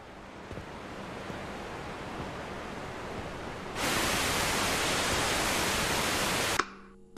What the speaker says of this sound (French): J'aime le bruit blanc de la télé.